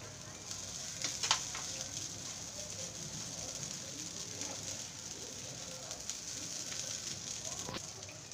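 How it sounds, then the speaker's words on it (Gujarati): Kachori stuffing of green pigeon peas with grated coconut cooks in a pan on a gas stove, giving a soft continuous sizzle and crackle with occasional stirring clinks, under a steady background hiss. "આપણે ટોપરાનું છીણ એડ કરી દઈશું."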